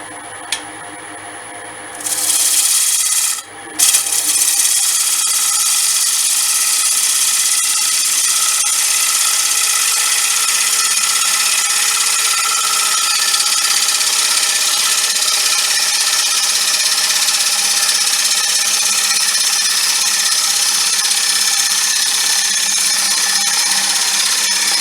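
A wood-turning tool skims an off-centre coloured bowl spinning on a lathe. The scraping is steady, loud and close, and it runs almost without a break after a short pause near the start.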